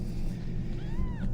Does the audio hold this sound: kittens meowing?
yes